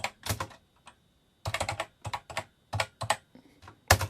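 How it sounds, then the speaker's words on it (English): Someone types text on the keyboard of a BBC Micro Model B 8-bit computer. Close keystrokes clatter in quick, uneven bursts separated by short pauses. "I typed some text in"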